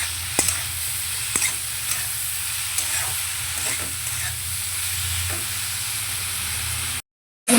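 Eggplant frying in a pan with salt and turmeric for a fenugreek-greens dish, a continuous close sizzle with a few sharp spatula clinks and stirring scrapes, cutting off abruptly near the end.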